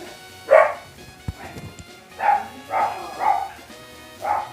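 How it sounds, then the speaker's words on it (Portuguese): Dogs bark and yip in the video game Pokémon Emerald, a quick run of five or six short, fairly loud barks with uneven spacing and a brief low thud between them. "cachorros tá atacando."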